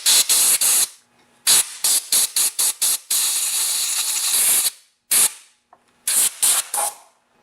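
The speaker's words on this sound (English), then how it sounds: "Now I'm just going to air blow the shavings off." Compressed air blasting metal shavings off a chainsaw muffler, heard as a series of sharp, loud hissing bursts, some short and rapid, one held for about two seconds, separated by quiet gaps.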